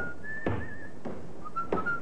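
A man whistles a wavering tune in short phrases, clear and fairly close, with a few soft thumps between notes, in a radio drama.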